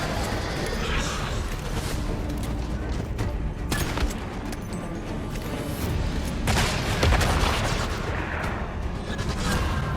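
A grenade blast and gunfire from the Once Human shooter, a fight against Mr Freeze: loud, continuous booming and crackling bursts, with sharper explosive hits around the middle and later on, and no clear talk.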